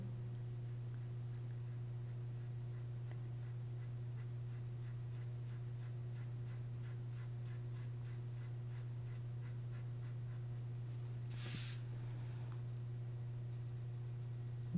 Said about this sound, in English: by taking the white pencil eraser